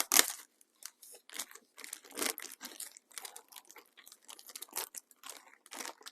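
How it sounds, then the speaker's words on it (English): Loose plastic model kit sprues for a Revell Porsche Junior Diesel rattle and crinkle inside a plastic bag, a close series of irregular clicks and rustles with no talking. "You hear a lot of rattling around."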